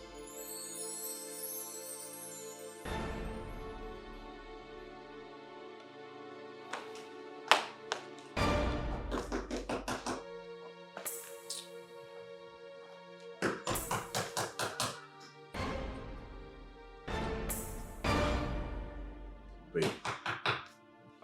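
Repeated bursts of heavy knocking and banging on a locked door in a home, several loud clusters of thuds spread across the stretch, with people talking in between.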